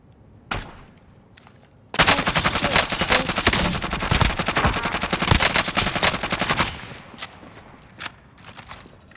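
Gunfire in the Call of Duty Warzone video game on the Verdansk map: a few isolated shots, then a loud sustained burst of rapid fire lasting several seconds, then sparse single sniper-like cracks.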